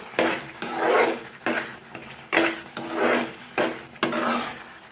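A spoon stirs papaya barfi with ghee in a pan in steady rhythmic strokes, each a thick rasping scrape across the metal with a soft clink at the start, repeated about six times close up with no talking.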